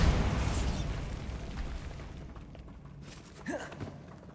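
Bombarda spell blast in the Hogwarts Legacy video game: a deep, rumbling explosion hits right at the start and fades over a few seconds, with faint game sounds trailing after.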